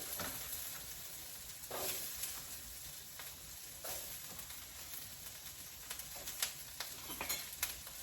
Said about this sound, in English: Give that sizzle.